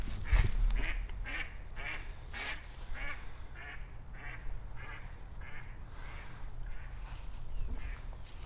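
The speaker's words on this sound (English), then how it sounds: "Ha, ducks." Ducks at a cemetery quack in a loose series of loud, nasal calls, several birds overlapping close by against a low outdoor background.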